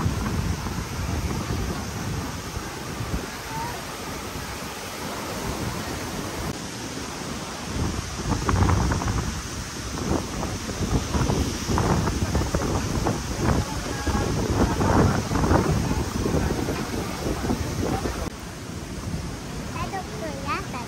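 Strong wind gusts buffet the microphone at Bulabog Beach on Boracay, with surf rumbling behind, a loud and continuous roar that surges and eases over the whole stretch while a person talks.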